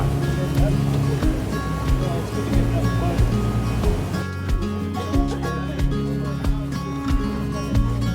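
A boat on the Shala River in the Albanian Alps heading back toward Shkoder, its engine droning steadily with water rushing and splashing along the hull, plus a rhythmic low thumping and bursts of wind noise.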